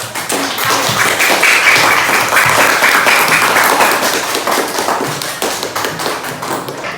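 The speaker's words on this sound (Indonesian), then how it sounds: "Mari kan kita kasih tepuk tangan untuk kelompok" A classroom group claps together, with loud, dense applause that holds steady and then thins out toward the end. Nearby indoors, no voices over it.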